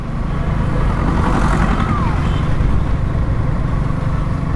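A Suzuki Gixxer 4V motorcycle overtakes on a busy road, its engine buried in a loud, steady wash of traffic and wind noise, with a faint horn-like tone briefly rising in the middle.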